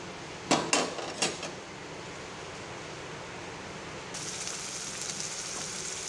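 Spice paste fries in a pan for dum aloo dalna: a few sharp metal clinks of a spatula against the pan come first, then a soft, steady sizzle carries on alone.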